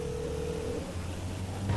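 Phone dialing in Grand Theft Auto V, a short run of steady electronic tones with a second tone near the end, alone without talk.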